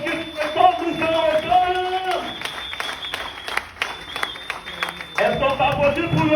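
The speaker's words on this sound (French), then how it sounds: "Est-ce qu'on peut applaudir pour les stockistes du Congo?" Audience applause at a French-language Yupi Global affiliate business event for the Congo stockists: sustained loud crowd clapping over several seconds, with a host talking through it and music playing underneath.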